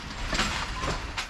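A Pakistan Railways passenger train running toward Rawalpindi, with a steady loud rolling rumble and broadband rush, brief rattling surges standing out from the continuous noise.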